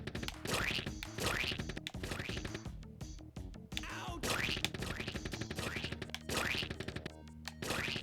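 Repeated blaster gunshots from Earthworm Jim HD on Xbox 360, sharp zapping bursts in quick clusters over game music, with someone talking at times.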